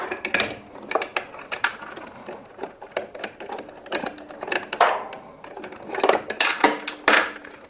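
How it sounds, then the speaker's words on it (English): Metallic clicks and ratchet ticks from a socket wrench undoing two 8mm bolts on a faulty pulley wheel in a Hotpoint Indesit condenser tumble dryer, irregular and close, steady throughout with no speech. "Just undo the two 8mm bolts"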